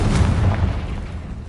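A short, loud explosion from the Confringo fire spell in the video game Hogwarts Legacy, a deep boom with a brief rumbling tail.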